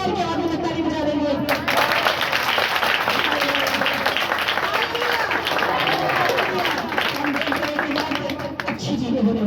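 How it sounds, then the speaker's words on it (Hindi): A church congregation at a Hindi-language worship meeting claps loudly and steadily after a voice fades out, dense applause with crowd murmur and voices mixed in. "यदि आप चाहते हैं तो बड़ी जोर के आगे में ताली बजा देंगे।"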